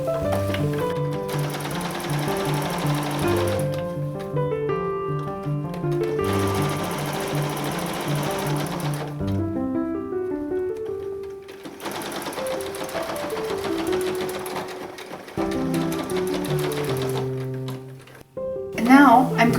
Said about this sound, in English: set my machine to just a default straight stitch